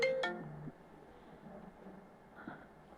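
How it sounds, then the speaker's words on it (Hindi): Phone ringtone from an incoming call interrupting a live stream: a short pair of bright tonal chirps right at the start, then fading into faint background hiss. "बीच में फ़ोन आ रहे हैं।"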